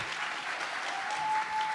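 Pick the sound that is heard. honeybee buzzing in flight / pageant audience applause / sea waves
pageant audience applause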